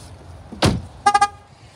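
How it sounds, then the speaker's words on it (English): A black HSV VF Clubsport R8 gives a dull door thud, then a close, clear triple beep in quick succession as its remote-left-in-vehicle reminder. "So when I leave the key inside, it beeps at me."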